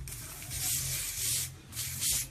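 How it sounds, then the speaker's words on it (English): Muck hair lacquer hisses from an aerosol can in three short close bursts, sprayed onto the fringe of a man's short layered haircut, with a low steady hum underneath. "now at this point we'll use our next product, which is Muck hair lacquer. Just going to drop that in now."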